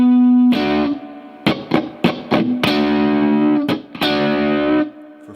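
Overdriven electric guitar plays the opening phrase of a solo, starting on a long held note, then several short picked notes, and ending on two sustained bends with a ringing tail.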